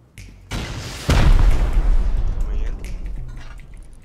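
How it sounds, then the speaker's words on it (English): Explosive charges blowing a wooden wall in the video game Rust, a heavy boom with a rumbling tail following a smaller thud, then fading debris noise. "Blow the wood wall."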